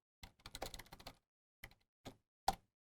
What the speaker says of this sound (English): I'll type system.out.print welcome to Java